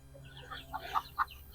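Chickens in a farmyard animal pen give a few short clucks, three brief calls spaced close together over a low background hum, fairly near and moderately loud.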